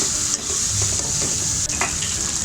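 Fried bitter gourd tossed into minced meat sizzles loudly in the pan, with steady frying hiss and occasional scraping stirs, close and continuous with no talk.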